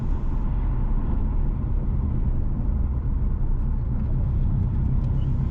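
Car driving south along a rural road in St Elizabeth, Jamaica, with a steady low engine rumble and road noise, continuous and fairly loud throughout.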